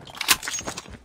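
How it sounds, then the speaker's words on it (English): A brief metallic clatter of a weapon magazine being swapped in Call of Duty Mobile, a few quick clicks and rattles close up. "Changing mag."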